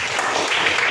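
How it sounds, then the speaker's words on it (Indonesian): Students clapping together in a classroom, a brief burst of dense, steady applause heard close and fairly loud. "Oke, tepuk tangan Pak"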